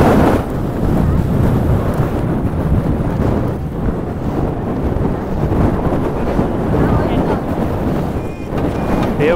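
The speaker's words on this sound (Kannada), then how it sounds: "ಗಾಳಿ ತುಂಬ ಇದೆ." Strong wind buffets the microphone on the Mullayanagiri hilltop in Chikkamagaluru, a loud, continuous low roar with gusty swells from start to finish.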